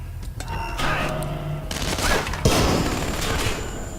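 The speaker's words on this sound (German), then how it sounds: "Blendgranate!" A flashbang grenade detonates in the stealth shooter Splinter Cell: Conviction, giving a loud burst partway through. Dense gunfire-like crackle and booming game noise fill the rest of the clip.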